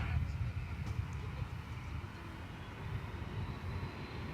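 A British Airways airliner taxis toward its takeoff position at DFW Airport, a steady low engine rumble heard from a distance, continuous and fairly faint, with a voice talking over it.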